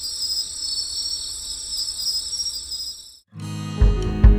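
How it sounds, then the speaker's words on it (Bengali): Crickets and other insects chirp in a steady, dense high-pitched chorus around a nature resort in Moulvibazar, Sylhet, at night; the trill runs loud and continuous, then cuts off abruptly and gives way to lower, louder sounds. "ঝিঝি পোকা ও নানা শব্দে মুখরিত ছিল চারপাশটা।"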